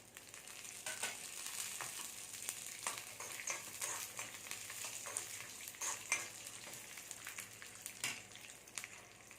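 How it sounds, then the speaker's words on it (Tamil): Almonds and cashews fry in hot ghee for bread halwa, making a soft, continuous crackle and sizzle broken by frequent sharper pops and stirring, heard alone at low volume. "நெய் சூடாயிருச்சு இதில் பாதாம் பருப்பு முந்திரி பருப்பு எடுத்து வச்சுருக்கேன் இதை ஃப்ரை பண்ணி அல்வாவில் போட்டுருக்கேன்"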